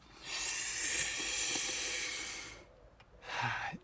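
A slow, deep breath drawn in through the nose and pushed back out: a long, airy hiss for about two seconds, a short pause, then a second fainter breath, close and with no talking.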